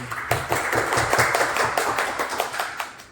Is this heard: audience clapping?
yes